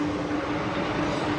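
Steady rumbling hum from inside a moving metro train, with a constant low tonal whine from the motors and an even rolling roar, no voices.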